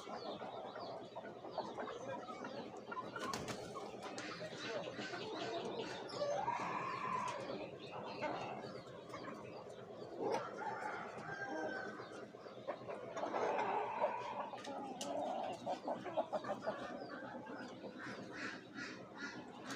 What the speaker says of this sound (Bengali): এটা হচ্ছে আসিল মোরগ